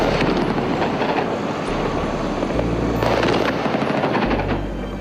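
A loud, steady roar of French army helicopters with deep rotor thumping fills the scene over Abidjan, Ivory Coast, during protests in 2004, and bursts of crackling gunfire rise and fall over it.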